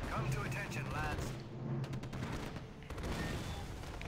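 Artillery battery firing in Axis & Allies, with scattered booms and crackling blasts under a steady battle din, fairly quiet and distant, and a voice speaks briefly.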